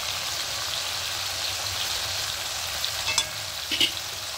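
Ginger garlic paste frying with softened onion and tomato in a pan, a steady close sizzle with a few sharper spatters and stirring scrapes near the end.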